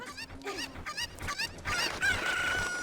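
Chickens in the game Zelda: Ocarina of Time cluck and crow in a rapid run of close, loud squawks that rise into a sustained crowing call near the end, with no talking.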